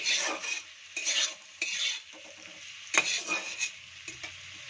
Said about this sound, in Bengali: তো দিয়ে ভালো করে একটু কষিয়ে নেবো সব যে মশলাগুলো দিয়েছি